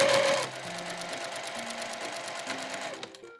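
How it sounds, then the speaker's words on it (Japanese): A sewing machine stitching fabric along a curve for room pants, a close, continuous rapid mechanical whirr and needle chatter that slows and stops near the end. "カーブのところまっすぐ布をまっすぐにして縫っていきますよ。"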